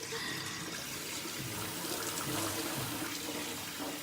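Icy cold water running from a tap and splashed onto a face before a mask, a steady near rush of flowing water with soft splashes throughout.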